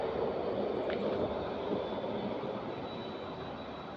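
An electric bus on the street gives off a steady, broadband hum with a rising whine as it pulls up, fairly loud and continuous throughout, with no voices over it.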